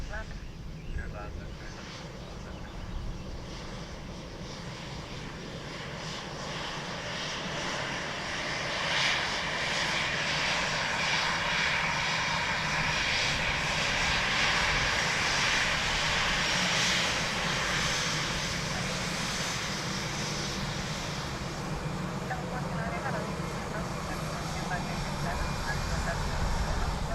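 An airliner arriving to land at Dublin Airport, its engine roar swelling from a distant rumble to a loud, sustained drone as it passes close, while radio chatter plays underneath.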